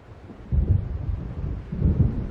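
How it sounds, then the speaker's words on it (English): Rolling thunder from an approaching storm in the video game Alan Wake Remastered, two low rumbling swells building and fading against a steady dark background, with no talking. "It seems there's a storm coming."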